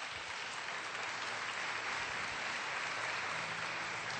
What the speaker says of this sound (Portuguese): Vamos aplaudir o Evangelho